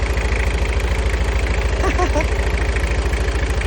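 A 3.0 turbo diesel engine fitted in a gas-to-diesel conversion idles with a rapid, steady knocking pulse, loud and close, with a voice briefly talking over it.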